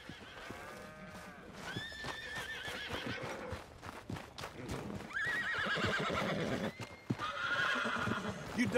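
A horse in the video game Red Dead Redemption 2 neighs and whinnies several times, with hooves clip-clopping nearby and other farm animals faintly in the background.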